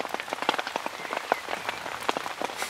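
Rain falls outdoors beside a lake, pattering on a nearby surface as irregular close drips and taps over a soft, steady wash, with no voices.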